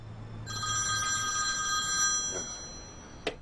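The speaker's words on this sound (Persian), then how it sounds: "ایلولم داره زنگ میزنه" A telephone ringing indoors with a steady electronic trill that runs for a couple of seconds, then fades into quiet room tone, ending with a brief click.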